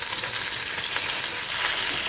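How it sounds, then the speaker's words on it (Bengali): Tilapia fish frying in hot oil in a pan, a steady close hiss and crackle that continues unbroken with no voices. "একটু ভেজে নিচ্ছি মাছটাকে।"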